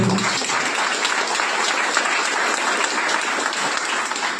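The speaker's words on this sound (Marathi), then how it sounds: "अशा प्रकारचे आपल्या या सॅनिटरी नॅपकिनसाठी जोरदार टाळ्या झाल्या" Strong audience applause at a sanitary napkin product presentation, a loud, dense, continuous clapping from a close crowd that fills the whole stretch without pause.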